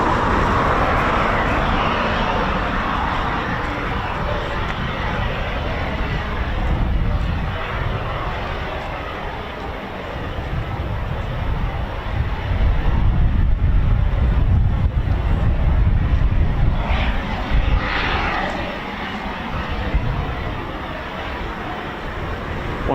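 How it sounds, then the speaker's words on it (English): A Eurofighter Typhoon FGR4 jet with twin Eurojet EJ200 engines at RAF Coningsby, a long broad roar that swells and fades for about twenty seconds, moderately loud. "One of the most amazing things about the Typhoon is its engine, or two engines of course. The Eurojet EJ200 engine."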